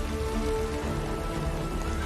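Steady rain falls in a dense, even hiss with a faint low tonal hum beneath it, and no voices.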